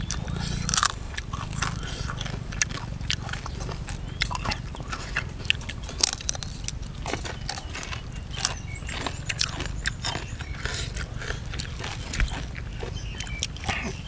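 Crispy grilled pork intestine being chewed close to the microphone, a steady run of loud crunches and bites over a low rumble, with someone speaking briefly.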